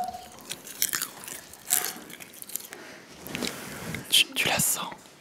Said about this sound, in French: Je vais croquer quelque chose.